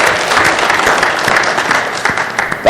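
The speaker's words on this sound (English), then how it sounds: "as well as a sister poet a round of applause." A teen event audience applauds poets after a reading, a loud, dense burst of clapping that runs steadily before tapering slightly near the end.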